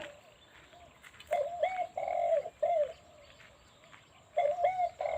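Birds call repeatedly in short cooing and chirping bursts, moderately close, with quiet gaps between the calls.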